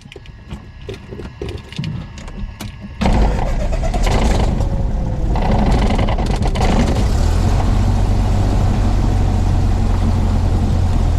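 Clicking and a starter whine give way to a small propeller aircraft engine catching and settling into a loud, steady, close drone, on a hot day.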